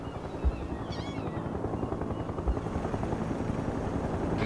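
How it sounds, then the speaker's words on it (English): Medium helicopter in the World in Conflict video game, its rotor chop beating steadily and loudly throughout with a continuous engine drone, heard alone. "Medium helicopter is ready."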